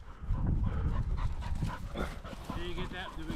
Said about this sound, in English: You got a dog over there?